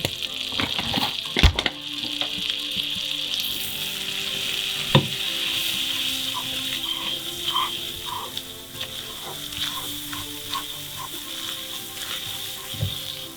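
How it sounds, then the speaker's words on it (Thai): Butter and flour sizzling in a pan for gravy sauce, a steady close crackle with occasional spatters and scraping stirs throughout, no talking. "ยายใส่เนยลงไปสองช้อนโต๊ะค่ะ เนยกับแป้งเท่ากันนะคะสองช้อนโต๊ะ"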